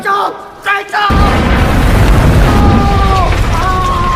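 A deep, loud film explosion erupts and rolls on as a sustained rumbling roar, while a voice talks over it throughout.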